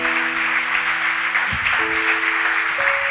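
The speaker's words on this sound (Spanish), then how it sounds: "Denle un aplauso al Señor." A church congregation applauds in a continuous, fairly loud burst of clapping while sustained organ or keyboard tones hold underneath.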